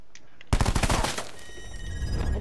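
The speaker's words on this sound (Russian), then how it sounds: "Да, я стреляю." Rapid automatic gunfire from the player's weapon in Call of Duty: Black Ops 4, a loud close burst of rattling shots lasting about a second, fading into a lingering echo.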